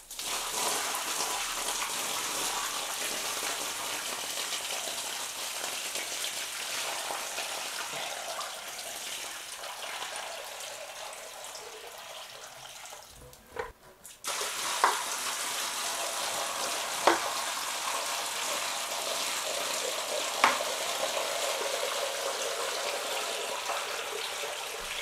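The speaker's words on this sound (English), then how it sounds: "Let's fill it up with water." Water pouring steadily into a freshly waterproofed shower area for a flood test, a constant splashing hiss close by, briefly interrupted midway, with a few faint knocks.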